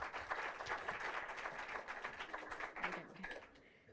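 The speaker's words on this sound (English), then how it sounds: "Let's have a huge round of applause." Conference audience at an industry skills conclave applauds as a panel ends, a dense, steady clatter of many hands that thins toward the close.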